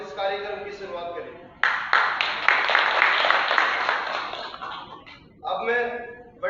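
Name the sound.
audience applause welcoming the programme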